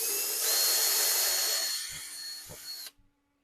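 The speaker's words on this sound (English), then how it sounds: "we'll drill this last hole" A power drill bores the last mounting hole for carbon fibre winglets, a steady high whine that runs close and loud for almost three seconds before cutting off abruptly, with a few light knocks near the end.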